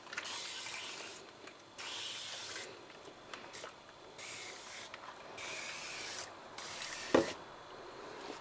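Several short hissing sprays from a spray bottle used for cleaning a kitchen, close and moderately loud, separated by brief pauses, with a small knock near the end.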